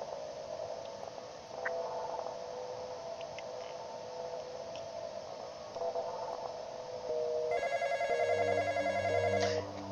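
A phone rings in a video game, a faint electronic trill repeating over a low steady hum, followed near the end by a louder burst of bright tonal electronic beeps.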